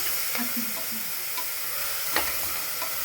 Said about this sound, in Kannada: ಇದನ್ನು ಒಂದು 3-4 ನಿಮಿಷ ನೀಟಾಗಿ ಫ್ರೈ ಮಾಡ್ಕೋಬೇಕು.